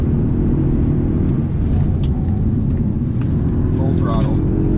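Polestar 1 hybrid performance car accelerating at full throttle, with a steady, loud engine and road roar that stays constant throughout, while a voice talks over it.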